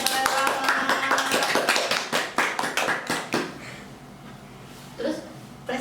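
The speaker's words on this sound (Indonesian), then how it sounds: "Tepuk tangan dulu dong kakaknya, keren banget." A small group claps in brisk bursts for a traditional dancer, the sharp close hand claps tapering off and fading into quieter room sound with a brief voice near the end.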